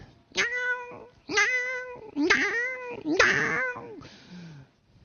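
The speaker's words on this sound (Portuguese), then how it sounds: "Você já viu o gato? Mesmo comendo, ele mia." A cat meows four times in a row, each call loud, close and drawn out, followed by a softer, trailing cry, with no talking.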